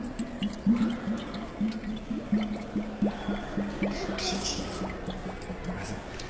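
An Inca-culture ceramic vessel, blown with both mouths covered, imitates spring water welling up from underground, giving a steady run of bubbling, dripping gurgles at close range.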